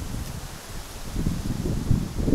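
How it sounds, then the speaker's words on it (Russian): Gusty wind rustling through leaves, swelling and easing, with low microphone buffeting from the wind. "Здесь ветер поднялся."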